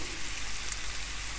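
Chicken kabiraji cutlet frying in a pan over a medium-low flame, a dense, even sizzle that is close and steady throughout a short stretch, with no talk.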